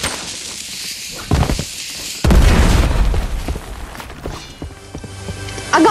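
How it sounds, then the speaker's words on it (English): A grenade goes off in Fortnite, a loud boom erupting after a brief pop, followed by rumbling debris and game noise with light chatter underneath. "grenade"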